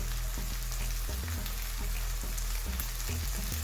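Breakfast food fries in a hot pan, giving a steady, close sizzle with a dense crackle and no talk.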